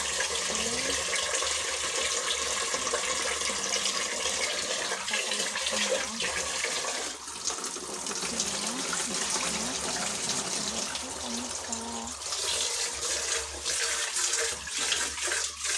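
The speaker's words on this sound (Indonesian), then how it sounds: "kita cuci bersih pemirsa ya, berasnya sampai bersih." Rice being washed by hand in a sink under a running tap, with a steady gush of water and faint sloshing and clinking throughout, loud and close, with no talk.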